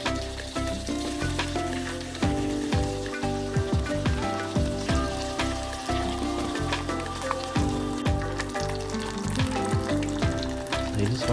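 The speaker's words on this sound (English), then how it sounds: "And yeah, time to fry these little things." Breaded mushrooms fry in hot oil as part of a plant-based fried chicken-style recipe, giving a steady close crackle and sizzle with scattered sharp pops throughout.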